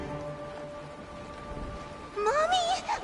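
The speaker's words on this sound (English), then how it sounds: "It is raining." Steady rain falls in the game Honkai Star Rail, a soft continuous hiss of drops, with a voice-like wavering tone rising over it near the end.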